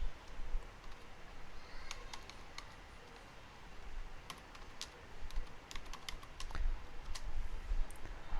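Rapid, irregular keystrokes on a computer keyboard with sharp clicks in short bursts, close and fairly quiet, with no voices.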